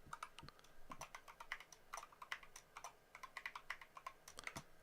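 A username and password typed on a computer keyboard during a Raspberry Pi setup, with rapid, fairly quiet keystrokes clattering steadily throughout.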